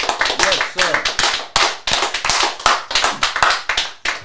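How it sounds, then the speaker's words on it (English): A few people clap in quick, uneven bursts during a casual interview, the claps sharp and close with short gaps between them, while a voice talks over and between the clapping. "Clap it up for that."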